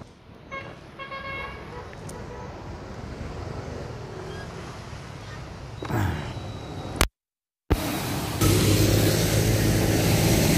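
Heavy rain pours down during a roadside stopover on a motorcycle ride near SM Tungko, a steady loud wash of broadband hiss that swells after a brief dropout, with wind noise and traffic around and a voice talking over it.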